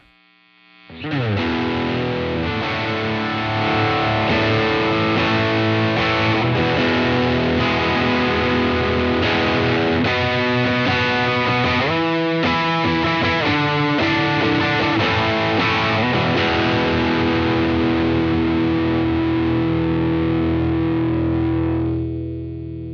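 A loud, heavily distorted electric guitar through a Lytt Effects ORE pedal at high gain plays thick sustained chords with saturated, buzzing high-gain crunch, ringing out for a long stretch before cutting off.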